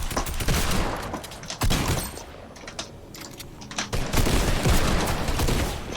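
Rapid bursts of gunfire in Fortnite crackle close and loud in two dense volleys, separated by a quieter gap with a few isolated shots.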